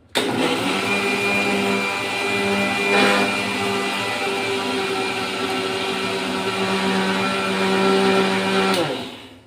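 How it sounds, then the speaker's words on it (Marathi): A mixer grinder whirs loudly and steadily while grinding roasted dal coarsely, a continuous motor drone that runs for several seconds and then cuts off abruptly near the end. "आपण आता मिक्सरला बारीक करून घेऊ."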